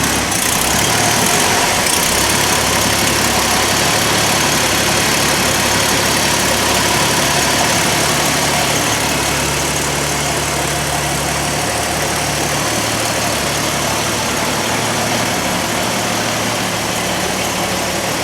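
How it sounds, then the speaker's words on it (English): A 1951 Nash Ambassador engine settles into a steady idle, its even, close mechanical hum running unbroken and alone throughout. "Settles into a nice idle."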